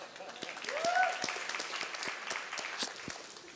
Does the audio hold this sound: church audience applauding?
yes